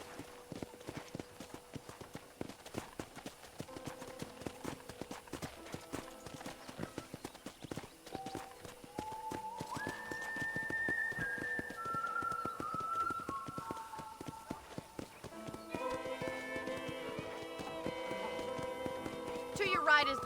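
Horse hooves clip-clop at a steady walking rhythm on a ranch in Red Dead Redemption, a continuous rapid tapping under a voice that talks over most of it, with music swelling in later.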